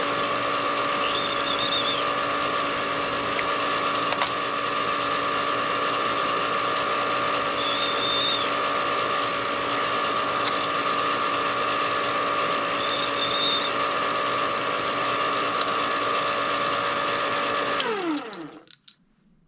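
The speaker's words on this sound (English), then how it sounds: "The next step is deburring the case mouths." A power tool deburrs the mouths of 6.5 PRC rifle cartridge cases: a steady, loud, high motor whine runs without a break for many seconds, with faint brief squeals as cases touch the cutter, then spins down and stops.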